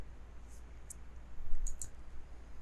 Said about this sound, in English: Now I tossed the dice